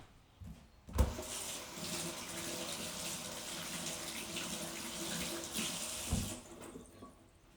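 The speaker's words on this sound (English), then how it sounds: "let's wash the hands" Hands being washed under a running kitchen faucet, a steady hiss of water into the sink with splashing as the hands move, bracketed by knocks as the tap turns on and off.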